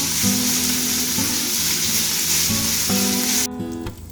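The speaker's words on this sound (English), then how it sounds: "We're gonna knock this chorizo around a little bit. Again, we try to break it up, cook it down" Chorizo sizzles loudly in a frying pan as it is stirred and broken up for mac and cheese, a dense close hiss with intermittent scraping strokes, with no talk.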